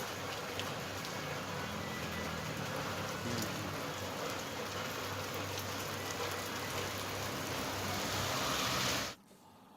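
Heavy unseasonal rain falls with hail on farmland, a dense, steady hiss of drops striking surfaces that holds evenly and then cuts off abruptly near the end.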